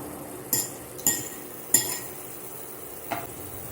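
Egg mixture being stirred into a sizzling sauce for an egg stew: four distinct utensil scrapes and clinks against the pan over a faint, steady frying hiss.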